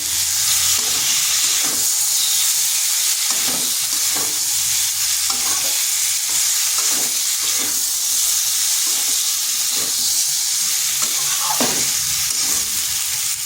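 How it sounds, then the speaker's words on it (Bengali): Fried potatoes and cauliflower are stirred with spices in a pan: a loud, dense, continuous sizzle and hiss up close, broken by repeated scraping and stirring strokes, with no voices. "এরপর দিয়ে দিচ্ছি ভেজে রাখা আলু আর ফুলকপিটা। এটাকে মশলার সাথে ভালোভাবে কষে নিচ্ছি।"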